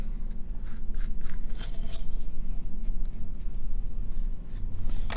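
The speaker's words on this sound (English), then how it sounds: "We're going to mark all our corners." A pen or pencil scratches as corners are marked on wooden paddleboat parts before they are rounded on a mini belt sander; the short strokes come in quick bursts against a steady low background hum.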